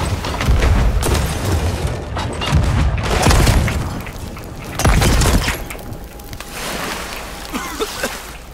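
Heavy cannon blasts fire repeatedly in the video game Sea of Thieves with rumbling low-end, interspersed with chaotic game effects and a brief thin tone, loud and close.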